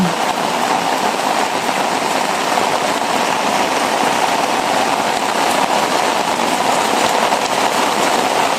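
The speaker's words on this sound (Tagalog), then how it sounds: "Ang lakas ng ulan!" Steady, dense rain pours down loudly on farm fields without a break, a constant hiss filling the space.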